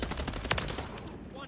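MCW rifle fired in Modern Warfare 3 gameplay, a rapid burst of sharp automatic shots over roughly a second, fairly faint and ending abruptly.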